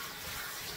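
Tap water runs steadily into a bath during a dog's wash, a soft continuous rush that stays even and fairly faint throughout with no voices.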